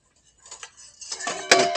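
A Boundless Voyage 1000 ml titanium camping pot being handled, faint thin metallic rattles that build into brighter clinks and a sharp ring near the end, close by with no talk.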